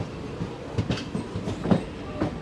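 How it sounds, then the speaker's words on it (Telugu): A Satavahana Superfast Express pulls in at Madhira station, its wheels giving a rumbling clickety-clack with irregular clanks and a brief squeal, heard near and steady. "ప్లాట్ఫామ్ నెంబర్ 2 పైకి అయితే మన ట్రైన్ వచ్చింది"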